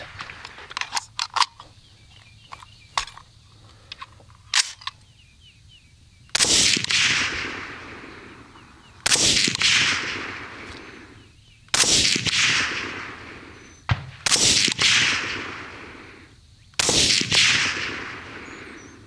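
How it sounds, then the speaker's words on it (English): Rifle shots from a CMMG Endeavor 300 in 6mm ARC firing ELDM ammunition with a hot barrel, five loud sharp reports spaced a few seconds apart, preceded by quieter clicks and handling noises. "if we were shooting a little bit more slowly, we could probably get a little bit more consistency"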